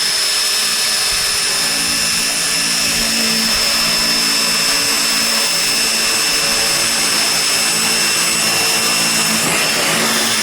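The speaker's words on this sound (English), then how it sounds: "She's going to start drilling them right now." A power drill bores holes through girt lines on a tiny home build, a loud, continuous whining motor drone with steady tonal harmonics that runs unbroken and close by.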